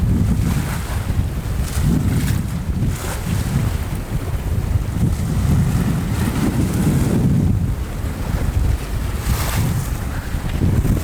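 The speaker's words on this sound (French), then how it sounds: "Il y a tellement de vent" Strong wind roars across the microphone on a sailboat at sea, gusting constantly with the wash of waves underneath; no voices.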